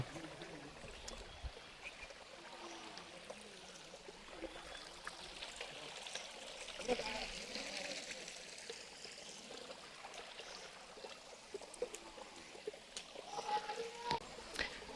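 A low stream on the Napittachora trail trickles and babbles softly and steadily in the open air, with faint voices now and then in the background.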